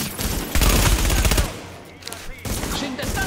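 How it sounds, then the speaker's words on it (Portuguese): Rapid automatic gunfire in the video game The Division, a dense burst of shots up close followed by a quieter lull and another short volley. "tem alguém atirando aqui atrás"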